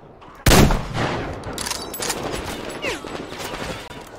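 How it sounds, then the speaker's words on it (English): Gunfire in the video game Metro Exodus: a sudden loud blast followed by a sustained barrage of shots and clatter that continues densely to the end, with no voices. "Where are you shooting me from? You can shoot through walls."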